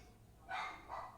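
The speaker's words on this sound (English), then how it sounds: "that's somebody barking back there" Dog barking twice in the distance, faint and muffled as heard from inside a car, a short pair of barks over a low background hum.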